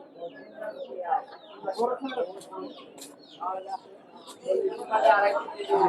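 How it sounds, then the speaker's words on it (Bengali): Guinea fowl, four home-raised birds offered for sale at the Savar Namabazar bird and pigeon market, give repeated sharp chattering clucks and calls close by, mixed with lively human chatter from the market crowd. "এই পাশে আমরা চারটা তিতি মুরগি দেখতে পাচ্ছি"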